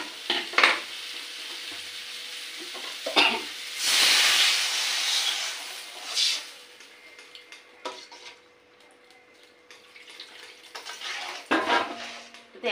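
Water is poured into a hot pan of fish and banana curry, raising a loud hissing burst of sizzle and steam, with scattered stirring scrapes and clinks of the pan before and after.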